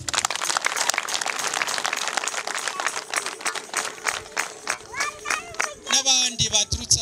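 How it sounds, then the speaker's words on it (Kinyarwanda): Applause and ululation welcoming guests at a parish umuganura celebration in Kampanga, with scattered hand claps and rising high trilled cries toward the end, the crowd fairly distant and uneven. "rwose Nyarurembo mubaha amashyi n'impundu"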